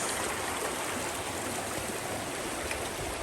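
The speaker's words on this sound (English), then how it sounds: "River crossing." A river rushing past a hiking-trail crossing on the Appalachian Trail, a steady, full broadband wash of flowing water, close and continuous throughout with no voices.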